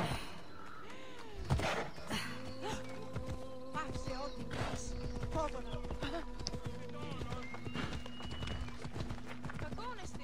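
Horse hooves clip-clopping at a slow pace in the video game Assassin's Creed Odyssey, a steady rhythmic clatter under game music and effects, with a brief neigh-like burst near the start and no speech.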